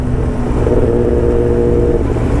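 A sportbike's loud aftermarket exhaust revs up and holds a rising, throaty roar, close and continuous over a steady engine drone, with no talk over it.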